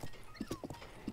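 Horse hooves clip-clopping in the game The Legend of Zelda: Breath of the Wild, a quick run of distinct hoof strikes with a brief whinny-like tone, close and fairly loud, no talking.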